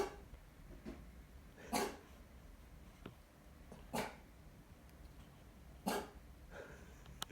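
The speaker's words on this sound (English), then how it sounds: "my dog sleeping just outside this door waiting for me to open it and allow him the freedom to bark" A pet dog barks from behind a closed door, three short muffled bursts spaced about two seconds apart in an otherwise quiet room.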